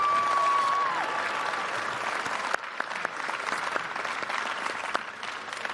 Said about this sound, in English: Could we all show our gratitude with a round of applause?